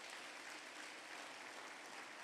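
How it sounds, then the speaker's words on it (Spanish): Loud, sustained applause from a church congregation praising the Lord, a dense, even roar of clapping filling the whole short stretch without any voices over it. "Denle el aplauso fuerte al Señor,"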